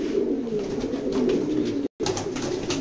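Maxi racing pigeons at a loft coo in low, throaty repeated calls, close and clear, with a brief dropout near the two-second mark.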